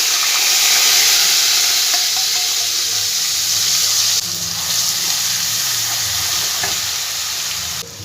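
Ground mustard and poppy seed paste frying in a pan over a low gas flame, a loud steady sizzle with stirring scrapes that drops slightly midway and fades near the end, no voices.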